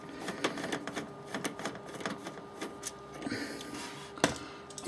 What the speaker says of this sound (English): My little stubby screwdriver.